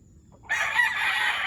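A gamefowl rooster being held and handled gives a sustained, strained vocal call that starts abruptly after a near-silent moment. It is loud and close and continues to the end of the clip.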